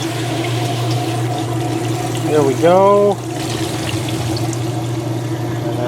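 A Kenmore 80 Series washing machine drains its water with a steady, close pump hum and a gurgling flow that runs the whole time, while someone speaks briefly partway through.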